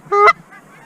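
A Canada goose gives a single loud, close honk from a late-season hunt, as the flock flies overhead toward decoys, followed by fainter calls in the background.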